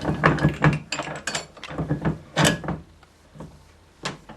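A bench vise is tightened on Teflon braided hose fitted in Speedflow vise jaws, giving a series of close, irregular ratcheting clicks and knocks of the handle and jaws, fading toward the end.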